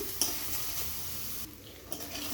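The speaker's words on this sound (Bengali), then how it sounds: "ঘি দিয়ে একটু আবারও ভেজে নেব" Pitha halwa frying in ghee in a pan, a soft, quiet sizzle with faint stirring scrapes throughout, close and low, no voices.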